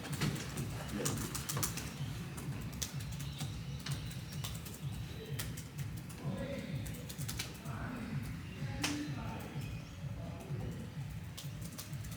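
Typing on a computer keyboard, steady rapid key clicks running throughout at close range, with birds cooing faintly in the background.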